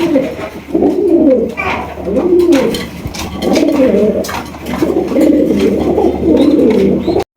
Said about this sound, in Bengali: কোয়ালিটিফুল রেস্তার কবুতর দেখেন